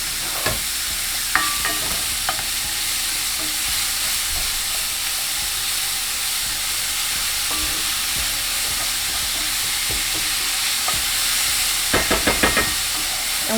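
Chopped celery sautéing in a pan for a stuffed lobster filling: a dense, even hiss of frying runs throughout, broken by a few brief clatters of stirring utensils, close and fairly loud.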